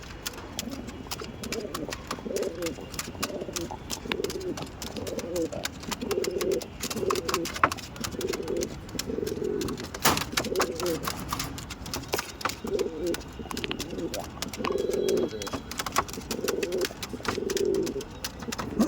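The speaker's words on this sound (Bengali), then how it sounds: "কলকাতার খুবই পরিচিত ব্যাড লাইনের পায়রা কিন্তু এইগুলো" Racing pigeons coo repeatedly in low, throaty bursts, several birds close by in a loft, over a rustling background with occasional clicks and scuffles.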